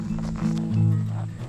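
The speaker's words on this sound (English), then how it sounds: "This is the horse that runs around and makes a rush." Horses on a trail ride move with soft, low hoof sounds and a short snorting, whinny-like tone, up close over light outdoor background noise.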